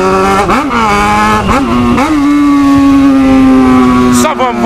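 A Yamaha XJ6 motorcycle accelerating hard, its engine loud and close and rising in pitch through quick blips and gear changes before settling into a steady high whine, with wind noise and a rider's voice.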